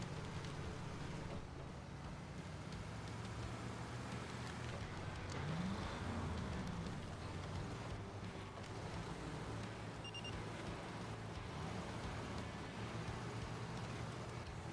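Trucks in SnowRunner Expeditions crawling through the Grand Canyon, giving off a steady, low engine drone with muffled rumbling that never lets up, mixed with a faint windy wash of terrain and weather noise.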